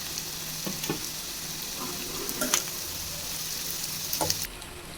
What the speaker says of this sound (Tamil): முட்டையை போட்டு நல்லா கிண்டியாச்சு